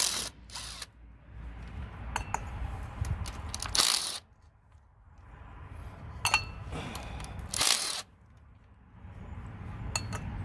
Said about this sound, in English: now we'll go ahead and remove these bolts again